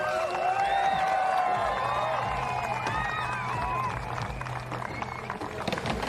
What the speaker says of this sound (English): Crowd making loads of noise here at Munich Mash.